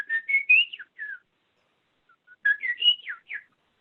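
A person whistles an imitation of the western meadowlark song, Nebraska's state bird. It comes as two clear, close phrases of sliding, warbling notes with a short silence between them.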